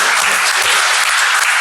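Audience applause at an ethics discussion on informed consent in medicine: a loud, dense, unbroken burst of many hands clapping together, close and sustained for under two seconds.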